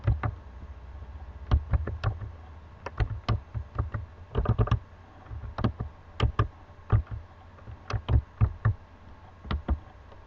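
Quick, light keystrokes on a computer keyboard, typed in short bursts with brief pauses, close and fairly quiet with no talking.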